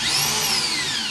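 Cheap old variable-speed drill spinning a new Milwaukee 3-inch Hole Dozer bi-metal hole saw, a steady close whining drone with a high pitch that rises and falls as it runs.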